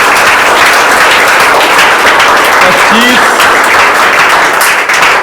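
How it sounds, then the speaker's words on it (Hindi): A classroom of students claps for a classmate who topped a Saturday test, loud continuous applause filling the room from start to finish, with faint voices mixed in. "ताली बजाओ भाई इसके लिए।"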